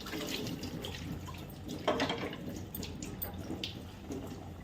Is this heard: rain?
no